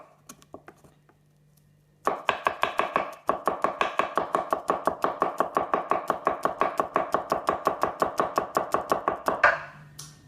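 Sharp knife tap-chopping a garlic clove on a board: after a quiet start, a rapid, even run of crisp close taps lasting several seconds, then stopping abruptly.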